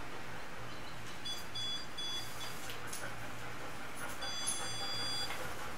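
A stud finder gives pairs of thin electronic beeps twice in quick double bursts, a false signal, over a low steady hum, fairly quiet and close.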